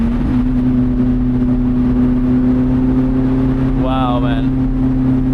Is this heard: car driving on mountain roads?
yes